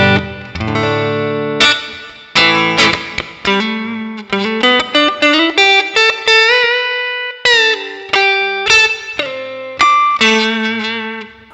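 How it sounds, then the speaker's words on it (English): An electric guitar with a bridge humbucker and two single coils is played through a NUX Mighty Plug set to a Fender Twin Reverb model. Clean, bright plucked notes and short phrases ring out with reverb, close and loud, with no talk. "I already have this cool Fender twin reverb sound dialed in."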